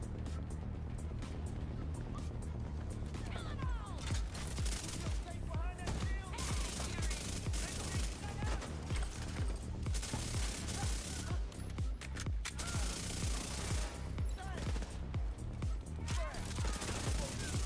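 Rapid automatic gunfire in The Division 2, fast bursts repeating almost nonstop across the stretch, thick and steady at a moderate distance, with a voice talking over part of it.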